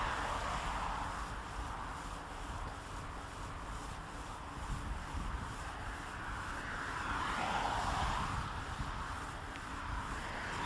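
Steady road traffic roar beside a pedestrian path along Washington Boulevard between Washington DC and Arlington, Virginia, with broadband wind-like rush and a passing car swelling around the middle and later, continuous and fairly near, no talking.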